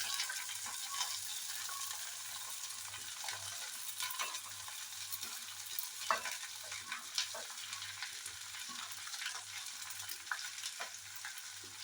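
Green beans stir-fry for payar thoran in a pan, a faint, steady sizzle with soft scraping and stirring taps, heard at a distance with a low background hum.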